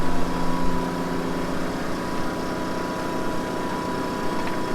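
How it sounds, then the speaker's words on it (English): A generator runs aboard a sailboat with a steady, loud mechanical drone and a constant engine hum throughout, with no speech over it. "I hope you can hear me over the generator."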